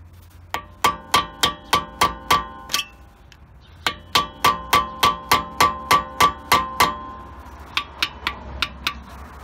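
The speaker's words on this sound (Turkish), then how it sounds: "Bunu bir tornavida ve çekiç yardımıyla açtırıp" Rapid series of sharp metallic hammer blows on a screwdriver against a brake hub lock on a Honda Accord, in two steady bursts with a short pause, ringing close and loud.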